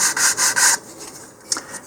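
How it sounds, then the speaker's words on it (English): Four quick, rhythmic rasping strokes of 100-grit sandpaper on wooden corner edges, then softer, scattered scrapes. "I'm going to start by taking 100 grit sandpaper and just sanding the corner edges so they're no longer sharp"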